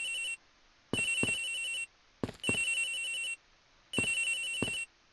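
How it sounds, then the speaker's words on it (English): A telephone ringing in the video game Ace Attorney Investigations, three bright electronic ring bursts of about a second each separated by silent pauses, clear and alone with no talking. "The ringing's coming from somewhere in here"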